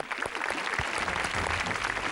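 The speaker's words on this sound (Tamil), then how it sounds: "உற்சாகமா ஒரு கைத்தட்டல்" A TV game show studio audience claps enthusiastically, a continuous, even burst of many hands at moderate volume through the whole moment.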